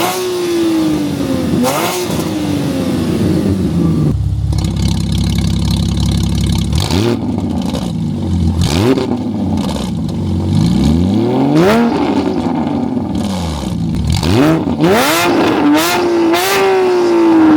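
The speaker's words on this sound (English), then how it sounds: "You guys want to hear the full revs all the way up to 8K" Porsche GT4 engine, warmed up and revved repeatedly toward 8000 rpm, loud and close, with rising and falling sweeps between idle and high revs, alone without talk.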